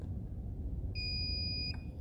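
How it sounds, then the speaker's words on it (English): A single electronic beep sounds, a steady high-pitched tone lasting under a second over a low background rumble. "stop beeping at me"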